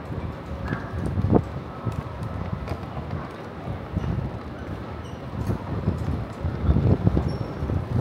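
Cold winter wind in Nagoya, Japan, buffets the microphone in uneven rumbling bursts, rising and falling over faint background rustling.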